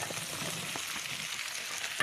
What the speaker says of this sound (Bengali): এটা আমি সুন্দর করে একটু ভাজা ভাজা করে নেব